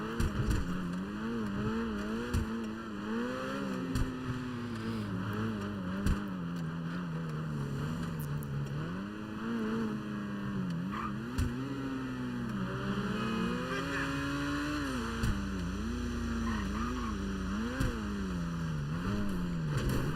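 A supercar engine revs and shifts in GTA 5 Online, its pitch rising and falling in repeated sweeps over a steady mechanical drone, loud and continuous throughout with no talk.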